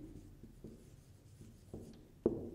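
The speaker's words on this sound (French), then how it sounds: "on va écrire les deux mots" Handwriting of words, likely pen or chalk on a writing surface, with soft scratchy strokes and light taps in an irregular rhythm, ending in a firmer tap, close and quiet with no talk.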